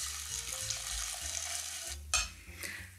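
A mixture in a pot is stirred right after 300 ml of hot milk is poured in, giving a steady close scraping and swishing with a sharper clink near the two-second mark; no one speaks.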